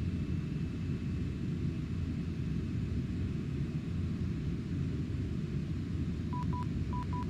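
In the FSX flight simulator, a Boeing 747's ILS identifier plays as short, clean beeping tones that come in pairs near the end, over a steady low cockpit engine rumble.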